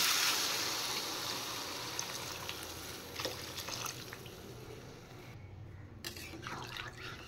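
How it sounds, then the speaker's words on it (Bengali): Water being poured into a pan of prawn curry, heard as a gushing, splashing pour that fades and thins toward the end with a few drips and small bubbling sounds, fairly faint and with no talking. "এবার আমি পরিমাণ মতো জল দিয়ে দিচ্ছি।"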